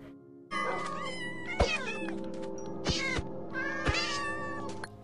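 A cat meows repeatedly in the Minecraft video game, several clear mews spaced about a second apart over a steady background hum, loud and close with no talking.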